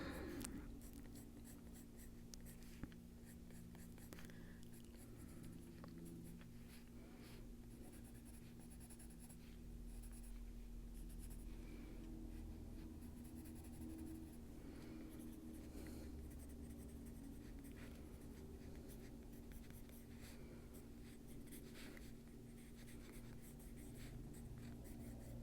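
Chromaflow colored pencils scratching across paper while drawing a foliage coloring page, a soft, steady stream of faint strokes and hatching lines, close and quiet, heard alone.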